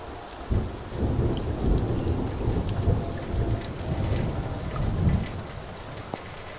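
A thunderstorm with steady heavy rain on surfaces and low rumbling thunder rolling underneath, continuous and close, with no voices.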